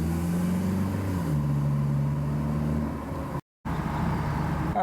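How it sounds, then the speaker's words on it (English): A Honda Hack, an open-topped conversion of a Honda Element, driving along with steady engine hum and broad, constant wind roar; a brief dropout interrupts the sound near the end. "So the Honda Hack drives pretty much like a normal Honda Element, just a lot more wind noise and a lot more sunshine."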